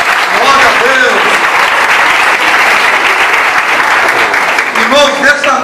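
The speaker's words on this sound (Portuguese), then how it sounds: "Vamos dar um aplauso a Jesus por essa equipe" A church congregation claps steadily and loudly throughout, a dense wash of applause with a few faint voices and cheers rising above it.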